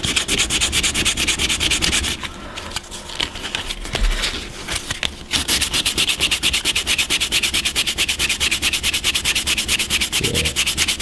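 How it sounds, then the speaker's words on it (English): Sandpaper is rubbed back and forth on a small ship model part, making fast, even, close scratchy strokes that pause briefly midway and then resume with the same steady rhythm. "Rubbing again with another sandpaper."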